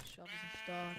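A single sheep bleat in a Minecraft-style block game, wavering and nasal, fairly close, with a short second bleat following; game sound effect with no talking.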